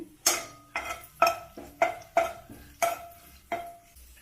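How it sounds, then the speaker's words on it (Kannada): Mustard seeds, cumin and curry leaves crackle in hot tempering oil for a North Karnataka pundi leaf chutney, giving about eight sharp, evenly spaced pops, each decaying quickly, heard up close with no voices. "ಒಗ್ಗರಣೆ ಹಾಕೊಂಡಿದ್ದೀನಿ ಈ ಥರ ಚಟಪಟ ಅನ್ಬೇಕಾದ್ರೆ"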